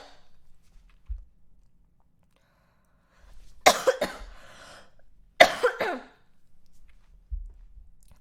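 A sick woman coughs close to the microphone in two separate bursts of several harsh coughs each, with faint thumps and near-silence between them.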